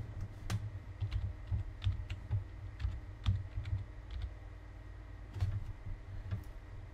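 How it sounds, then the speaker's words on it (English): Keys tapped on a computer keyboard while entering an IP address for an RGH/JTAG Xbox 360 setup, heard as irregular bursts of close, crisp clicks over a steady low hum, with no talking. "So I'm going to go ahead and type that in."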